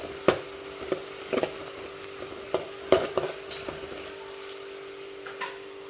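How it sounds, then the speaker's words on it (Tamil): Spoon clicks and scrapes repeatedly against a vessel while chili powder is mixed into homemade tamarind pickle, a series of short taps over a faint steady hum, no speech. "மிளகா பொடி இது ரெண்டும் போட்டு நல்லா மிக்ஸ் பண்ணி எடுத்துக்கலாம்"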